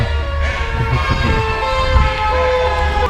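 An eerie Siren Head sound effect: sustained, wavering siren tones stacked in layers, loud and unbroken for a few seconds over a low throbbing rumble.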